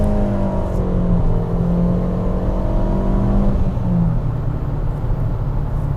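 A Fiat Panda Abarth with a turbo engine swap drives in third gear, its engine droning loud and close inside the cabin, with a steady hum whose pitch drifts up and then eases down over several seconds.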